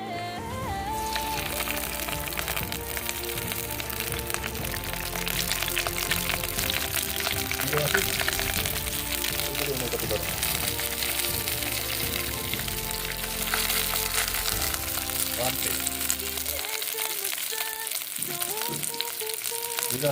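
Curry leaves hit hot oil for a chicken curry, giving a loud continuous crackling sizzle that spits and pops throughout, while a person talks over the cooking.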